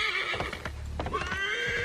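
A horse in the video game Assassin's Creed 3 gallops and neighs, a drawn-out tonal whinny riding over a few heavy hoof strikes, mid-level and close.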